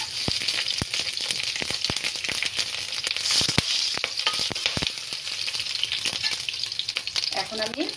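Whole spices and ingredients sizzling in ghee in a pan for moong dal khichuri: loud, continuous close-up frying hiss with frequent crisp pops and spatula scrapes stirring throughout, no one speaking.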